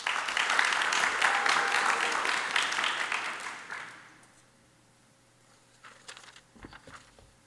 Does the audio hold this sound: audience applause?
yes